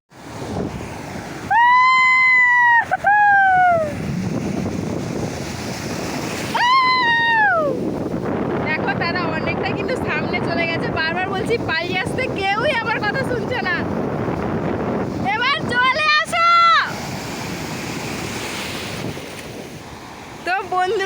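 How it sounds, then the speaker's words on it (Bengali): Ocean waves wash onto a sandy beach with a steady surf rush and gusty wind buffeting the microphone, while people talk loudly over the water throughout. "ঢেউগুলো আসছে সত্যি কথা বলতে কিন্তু আমাকে ঠেলে নিয়ে চলে যাচ্ছে"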